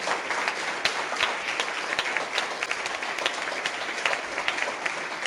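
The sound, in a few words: audience applause for presenters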